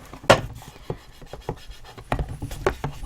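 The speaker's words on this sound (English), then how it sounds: "And then just give it a good burnish all the way around." A scored paper card box is burnished with a tool, giving short rubbing and scraping strokes in an irregular rhythm, close and fairly quiet.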